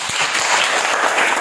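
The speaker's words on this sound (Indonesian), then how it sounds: "mari kita berikan tepuk tangan" Classroom of students applauds after group presentations, a loud, continuous wash of clapping close by with no pause.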